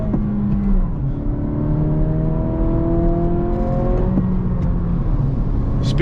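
A 2023 Acura Integra A-Spec with a six-speed manual pulls hard at full throttle on a freeway, engine note rising steadily with a gear change midway, loud and continuous from inside the cabin.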